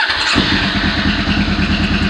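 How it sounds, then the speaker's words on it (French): A motorcycle engine starts and settles into a steady, loud idle after a fresh oil change, its even low rumble carrying on close up with no talking. "Donc, on fait tourner légèrement la moto."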